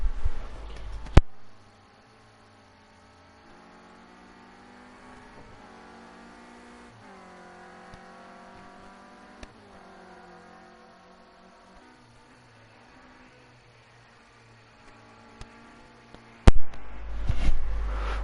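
A Renault Clio Cup race car's engine in Project Cars 2 at Oulton Park, a steady mid-pitched drone that rises and falls through gear changes, with sharp clacks at the start and a louder burst near the end.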